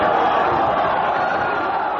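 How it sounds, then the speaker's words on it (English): An ECW wrestling crowd at Hardcore Heaven 1995 roars in a dense, steady wall of sarcastic applause and drawn-out woo chanting, loud and unbroken throughout. "the crowd sarcastically to some extent applaud his decision and actually start quite comically drowning him out with woo"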